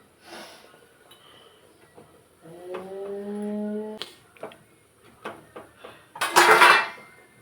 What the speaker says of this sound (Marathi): झाकण ठेवायचं आहे झाकण लावून घेतलेलं आहे